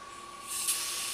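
Lubricant aerosol sprayed into a starter drive bushing, a short hiss that swells midway and continues steadily alongside a faint constant tone.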